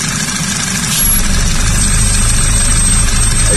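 A 2010 Audi A4 Quattro engine idles with its oil filler cap removed, a steady low drone that thickens into a stronger rumbling hum after about a second and holds there, close by and without talk.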